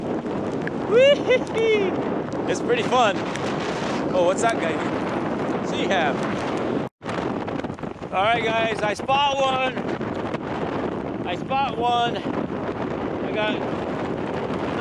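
Strong wind gusts buffet the microphone on Ocean Beach in San Francisco during a storm at low tide, a constant loud roar under excited talk and shouts.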